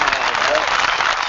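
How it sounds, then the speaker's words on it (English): An audience breaks into applause, a dense burst of clapping heard close and loud for about a second, with no speech audible over it. "Let's get a round of applause"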